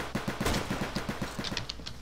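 Rapid bursts of gunfire in a Flag Wars video game match come as quick repeated shots in a fast rhythm, fairly loud and close, with no talk.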